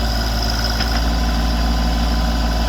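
A Branson 2500 tractor running with a BH100 backhoe, its engine holding a steady, loud, close drone with constant low rumble and no change in revs.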